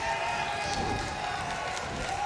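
Steady crowd roar from a Mexico City wrestling arena in the WWE 2K19 video game, a continuous wash of cheering with light applause running evenly throughout.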